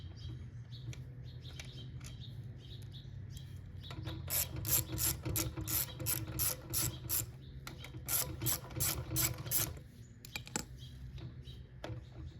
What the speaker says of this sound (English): You're going to unscrew all of these bolts on the way here.